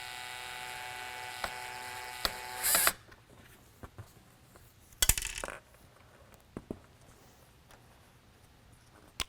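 Tiny screws from a Code 3 420 Beacon Mini Lightbar drop onto a hard surface, giving sparse light ticks and clicks with a few bouncing clatters between two brief louder bursts of handling noise, close and quiet.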